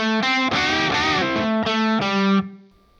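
Distorted electric guitar plays a quick lick from a song, with bent notes and a few picked steps, closing on a sustained note that fades.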